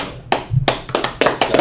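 A church congregation claps at a Sabbath service in a run of sharp, uneven hand claps, several loud bursts close together, with no talking over them.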